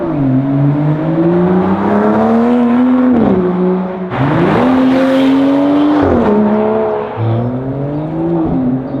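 A 2018 Aston Martin DB11 sports car engine revs and shifts through gears, pitch climbing and dropping repeatedly as it accelerates, loud and close throughout.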